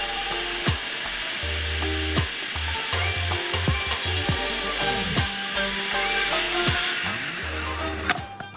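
Eggplant slices frying in hot oil give a steady, close sizzle, with wooden scraping and stirring knocks over the top and no talk.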